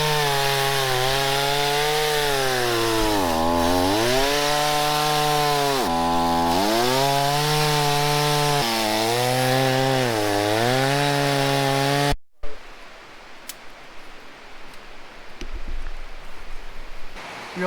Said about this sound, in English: So we're gonna cut some more firewood.